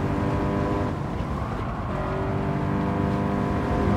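In the Gran Turismo racing game, a Subaru BRZ race car's engine drones loudly and continuously at high revs, with the pitch shifting slightly as the car runs through the race.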